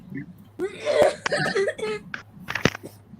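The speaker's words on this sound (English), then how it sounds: "That cough." A rough cough and throat-clearing, close to the microphone, mixed in with someone talking.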